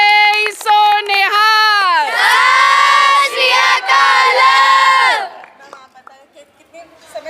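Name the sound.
crowd shouting jaikara after 'Bole so nihal'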